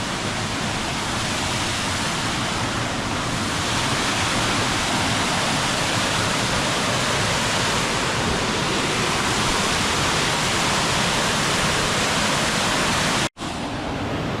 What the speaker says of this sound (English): So on one side of this bridge is this beautiful cascading waterfall.